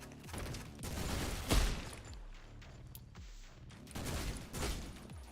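Gunfire from a picked-up gun in the video game OTXO comes in rapid bursts of shots. Game sound effects surround the shots, and no one talks.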